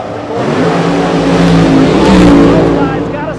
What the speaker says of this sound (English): Got us a drag race right here